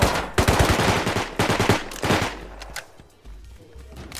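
Rapid bursts of automatic gunfire in a Spanish-language clan-zone shooter game ring out loud and close for about two seconds, then give way to a few sparse shots and quieter background.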